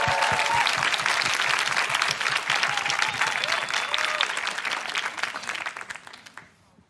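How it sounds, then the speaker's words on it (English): A London event audience gives guests a big round of applause, loud, dense clapping with a few cheers and whoops, holding strong before fading out near the end. "Please give them a huge round of applause."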